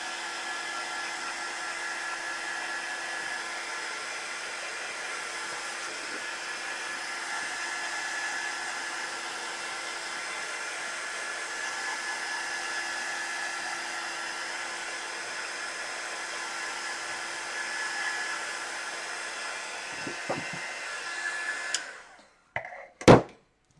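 A hair dryer dries a craft layer with a steady, close whir that runs unbroken for about twenty-one seconds, then cuts off and leaves a few faint clicks and handling noises.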